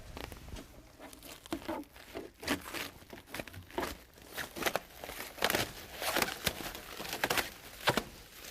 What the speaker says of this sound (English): We'll start in the back and we'll cut the shrink wrap.